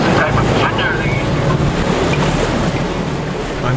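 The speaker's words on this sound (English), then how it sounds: "rocking from side to side in the strong ocean swell caused by the rough seas" Rough seas and strong ocean swell off Hawaii, heard from aboard a rocking boat: a constant loud wash of water and waves with heavy wind buffeting the microphone, and a voice talking over it.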